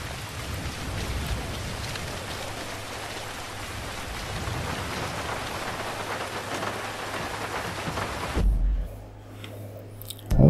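Heavy rain pours down in Grand Theft Auto V around a helicopter, a steady loud wash that cuts off abruptly near the end, leaving faint low rumble and a brief thump.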